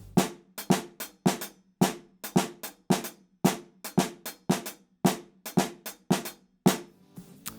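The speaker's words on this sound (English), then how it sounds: "we end up with 3 beats in the snare drum and 4 beats in the hi-hat" Quick, crisp drum hits repeat in a steady, interlocking three-against-four polyrhythm, three snare strokes against four hi-hat strokes, alternating closely, played alone and near.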